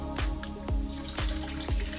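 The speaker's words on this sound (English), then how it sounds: "we're gonna pour in our margarita mix, and then our tequila" Tequila pours into a Ninja Slushi machine for frozen margaritas, a close liquid glugging in four evenly spaced gurgling pulses over a low steady hum.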